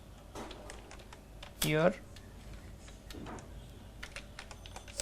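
Close keyboard typing on a computer, with scattered quick key taps under a man's speech and a brief louder clatter partway through.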